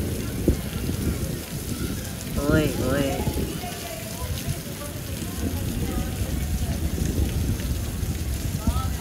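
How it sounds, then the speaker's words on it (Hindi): Heavy, cold, stormy rain pours in a constant broadband roar, with a voice exclaiming with delight and chatting over the downpour. "इतनी कोई तूफानी बारिश हो रही है ना, ओए होए सही ठंडी वाली बारिश"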